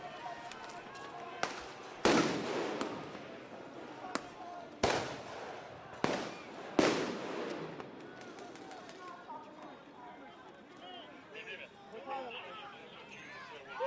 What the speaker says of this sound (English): Those are flashbangs.